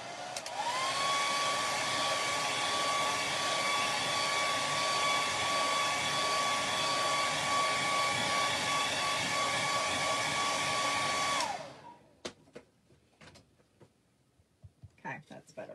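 A hair dryer blows steadily and loudly on a chalk transfer for about eleven seconds with a constant whining roar, then clicks off, leaving faint handling noises.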